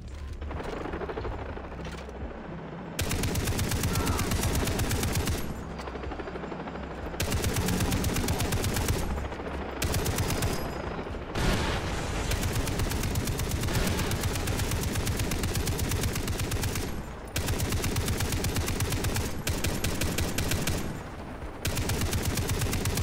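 Automatic gunfire in the Far Cry 3 video game, loud sustained bursts of rapid shots broken by brief pauses, close and dense, with no talking.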